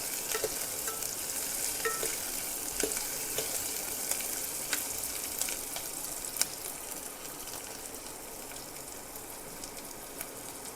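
Onions and whole spices sizzling in hot oil for a tomato kurma, a continuous fine crackle with occasional soft pops and light stirring clicks, close and even throughout.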